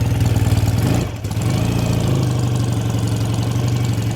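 A 1967 BSA A65 Thunderbolt motorcycle engine runs after a kick start, a close, loud, rhythmic idle that dips briefly about a second in, then settles back into a steady low chugging.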